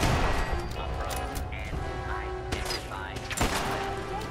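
Antimatter rifle, a single-shot weapon in Fallout 4, fires several loud bursts, one near 2.5 seconds and another near 3.4 seconds, over a steady busy game background with other sounds layered in.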